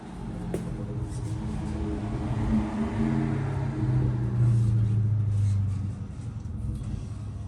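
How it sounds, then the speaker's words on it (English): A Dodge Challenger comes around a corner with a deep engine rumble that swells and holds, then eases off near the end, mid-distance and fairly loud over faint background. "there's a Challenger from around the corner"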